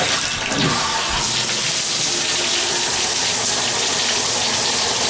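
Shower running on hot water at high pressure, a steady loud broadband rush of spray that stays constant throughout with no talking.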